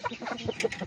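A hen clucking beside her eggs as she gets ready to brood, giving a quick run of soft, close clucks within a second.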